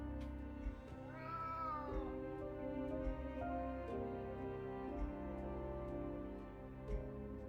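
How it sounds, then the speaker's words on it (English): A cat in a video game lets out a drawn, wavering meow that rises and falls over a steady sustained musical drone, with soft intermittent clicks. "Hey, speak to me, cat."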